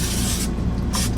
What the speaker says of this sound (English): I'm gonna spray some coconut oil spray.